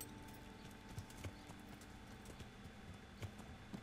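A horse in the medieval game Kingdom Come: Deliverance clip-clops with steady, evenly spaced hoofbeats, faint and somewhat distant over a low background hum.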